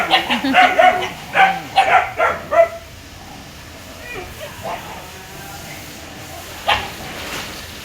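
Several adopted mixed-breed street dogs bark in a rapid burst of close, loud barks, then trail off into a few scattered yips and a lone later bark, with no talk over them.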